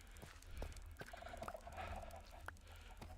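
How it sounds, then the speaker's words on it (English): Chickens in a Minecraft world cluck steadily in soft, repeated calls, faint and nearby over a low background rumble. "I brought like 20 chickens back here."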